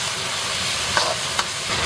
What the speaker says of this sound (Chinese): 先把泡菜跟料头放下去爆香